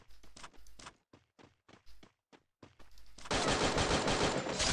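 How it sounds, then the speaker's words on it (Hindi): Sharp gunshots crack in a shooter game, first as spaced single shots with short gaps, then building into a loud, continuous burst of rapid fire at close range. "वहाँ से मेरे को बंदूक से शूट करी यार"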